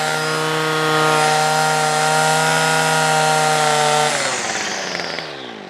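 A Titan petrol hedge trimmer engine runs loud and close at a high, steady whine, then drops in pitch and winds down near the end.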